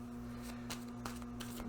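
Tarot cards being shuffled by hand in a steady run of soft riffling, papery flicks and slaps, close and fairly quiet over a constant low electrical hum, with no talking.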